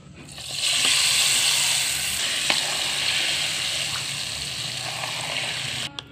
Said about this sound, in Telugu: ఇదిగోండి పోపులు వేసేస్తున్నాను.